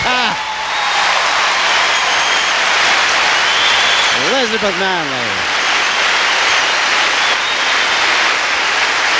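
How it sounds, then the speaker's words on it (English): Large arena crowd at the Olympic Saddledome applauding a figure skater's finish at the 1987 Skate Canada International long program: sustained, loud roaring applause and cheers filling the building, with a commentator talking over it. "And this large crowd here at the Olympic Saddledome receives her so warmly."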